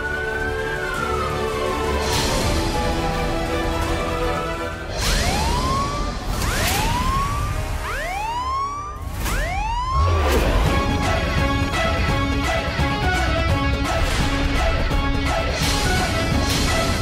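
Police car siren wailing loudly with rising and falling sweeps, later shifting to rapid yelping bursts, over a dense background of music and noise, with no talk.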